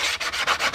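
A 180-grit sanding block is drawn by hand along the edge of a plexiglass windshield, giving a close, loud raspy scrape repeated in about six quick, even strokes.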